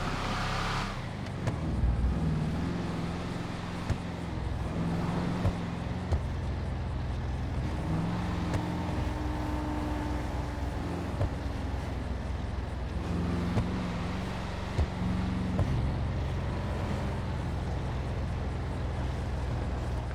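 A car engine drives steadily in a GTA roleplay game, giving a continuous low rumble with shifting tonal whines as the vehicle speeds up and slows, fairly loud throughout.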